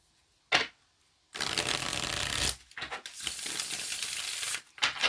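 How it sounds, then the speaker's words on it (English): Tarot cards being shuffled by hand: a quick riffle, then a long papery rush of cards sliding together, followed by a few shorter bursts, close and fairly loud. "One more shuffle."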